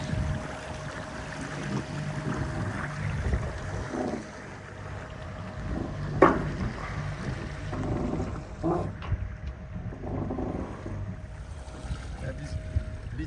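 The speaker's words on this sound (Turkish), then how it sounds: "Rüzgar yok. Motorla devam ediyor." A sailboat motors along under engine power on a windless evening at sea, a low steady engine drone with a faint tonal hum and light wind buffeting on the microphone, a couple of brief knocks, no speech.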